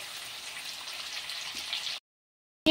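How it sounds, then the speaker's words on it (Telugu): Onions frying in a pan for donne biryani, a steady close sizzle and crackle of hot oil that cuts off abruptly partway, followed by a short loud thump. "ఇంకా ఆనియన్ మంచిగా ఫ్రై అవ్వాలి."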